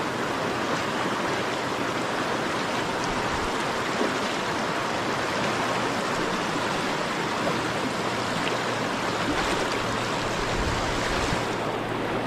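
Stream water flows steadily nearby in an outdoor vegetable-growing area, a continuous broadband rush with a faint low rumble beneath and no voices.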